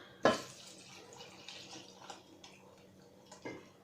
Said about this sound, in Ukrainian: 2 літри води буде в мене. Я отак наливаю.